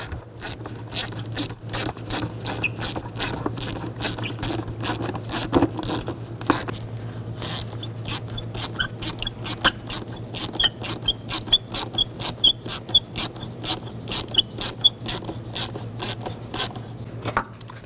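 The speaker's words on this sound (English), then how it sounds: "Tighten down the worm clamps." Worm-gear hose clamps on a mass airflow sensor hose of a 2010-16 Buick Lacrosse being tightened, a fast run of close ratcheting clicks that pauses briefly, then resumes in sharper bursts, with no talking.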